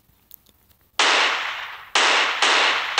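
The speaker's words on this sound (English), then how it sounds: "He's going to start shooting randomly." Gunfire in the mobile game Prop Hunt: four loud, sharp shots after a quiet opening, each a harsh burst that rings briefly, fired at uneven intervals with no voices over them.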